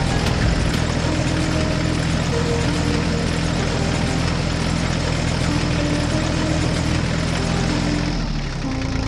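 A tractor engine runs steadily on a farm while mowing a field, a loud, continuous low rumble that holds throughout and eases only slightly near the end.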